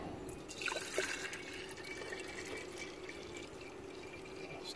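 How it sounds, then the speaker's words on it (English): Sugar water being poured into a beehive feeder, a steady liquid trickle with a few brief drips, close and fairly quiet against a constant outdoor hiss. "I'm filling these girls up with sugar water."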